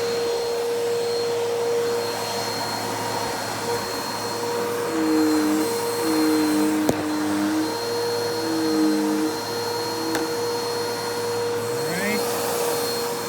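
A Bissell Cleanview 2492 upright vacuum cleaner runs steadily with a loud motor whine and airflow roar, its pitch wavering briefly as the head moves over different surfaces.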